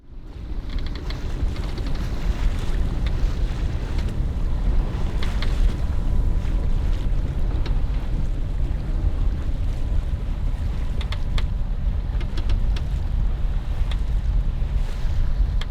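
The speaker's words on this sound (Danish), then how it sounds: "Det tredje sejlads i træk, hvor vi kun sejler for motor." A sailboat running under engine on the Øresund, with a steady low motor drone and rushing water beneath gusty wind buffeting the microphone, continuous and fairly loud throughout, no voices.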